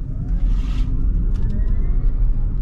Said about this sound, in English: What I'm going to do now is give you a hard acceleration so you can really hear the in-cabin noise.